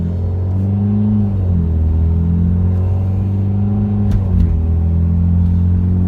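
A cold Mitsubishi Lancer Evolution MR idles and pulls down a street while warming up, its engine giving a steady low rumble that rises and dips gently with light throttle, close and loud throughout.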